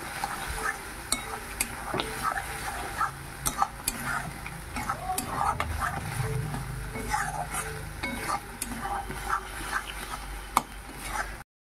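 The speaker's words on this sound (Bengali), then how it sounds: "আর মশলা কষে নিয়েছি প্রায়, আরও একটু ভালো করে কষে নেব" Spice paste with fried prawns being stirred and fried in a pan, a steady sizzle under a spatula that scrapes and taps the pan in an irregular rhythm, close and moderately loud, with no talking.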